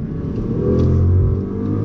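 A BMW car's turbo engine pulls hard under acceleration in second gear, a loud steady low growl rising slightly with a faint turbo whir on top.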